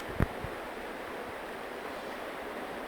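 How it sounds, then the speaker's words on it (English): Steady, dense rush of river water pouring over rocks, heard close and continuous with a brief thump near the start and no voices. "Water spilling over the rocks is beautiful, magical, and powerful at the same time."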